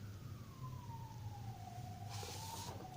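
A police vehicle siren passes by outdoors, a single continuous wailing tone sliding slowly downward, moderately distant, with steady traffic rumble underneath.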